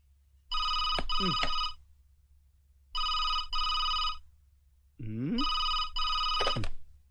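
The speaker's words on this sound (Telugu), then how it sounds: "ఫోన్ మోగుతుంటే ఎంతసేపు ఏం చేస్తున్నావు" A telephone bell rings in three long bursts, each a pair of electronic trills, loud and close, in an indoor comedy scene. Brief voice sounds overlap two of the rings.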